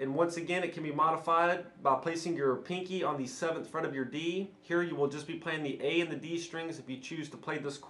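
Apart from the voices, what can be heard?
No everyday noises stand out.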